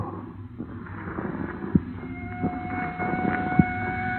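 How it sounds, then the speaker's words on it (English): Police car sirens wailing out in the countryside as a sound effect in an old-time radio drama, a sustained rising tone over a rumbling background, with a few dull thumps and no speech. "Even out in the country, they gotta lay on those sirens."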